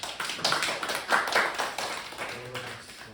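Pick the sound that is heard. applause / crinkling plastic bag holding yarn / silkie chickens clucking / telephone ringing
applause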